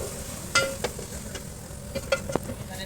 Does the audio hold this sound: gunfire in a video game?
no